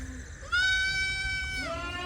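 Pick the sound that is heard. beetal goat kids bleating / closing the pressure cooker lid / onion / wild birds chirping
beetal goat kids bleating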